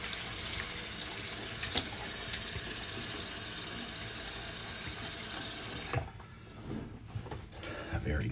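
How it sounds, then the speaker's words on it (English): Tap water runs steadily into a sink for rinsing after a shave, a continuous hiss that drops away near the end, leaving a few faint splashes and drips. "All right, let's rinse off here."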